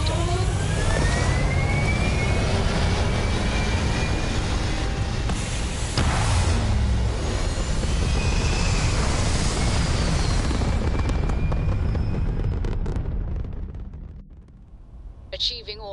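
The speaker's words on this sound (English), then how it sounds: "We have liftoff." A spaceship lifts off in Starfield with a loud, sustained rumbling engine roar and rising whooshes that carry for many seconds, then fades away near the end. A voice speaks over the roar.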